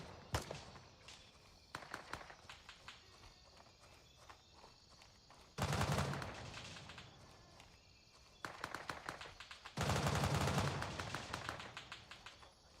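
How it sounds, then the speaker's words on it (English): Bursts of gunfire in the military shooter Gray Zone Warfare: scattered single shots, then dense rapid automatic volleys in several long bursts, loud and close, with quieter shots and footsteps in between. "Lots of shooting going on."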